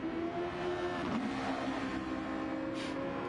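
Race car running an outlap at the Red Bull Ring in Gran Turismo 7, a steady engine drone with shifting pitch and a brief whoosh, heard onboard and continuous.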